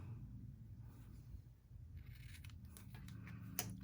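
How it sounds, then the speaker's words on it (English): Ribbon scissors snip through ribbon while a stamped greeting card is being made, giving a few faint, quick cuts over a low background hum in the second half. "And then with my ribbon scissors, cut those"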